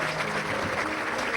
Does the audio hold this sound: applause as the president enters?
yes